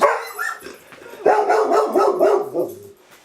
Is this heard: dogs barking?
yes